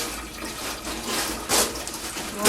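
A tap runs steadily into a sink as hands are rinsed under it, a close, even rush of water with slight splashing swells and no talk.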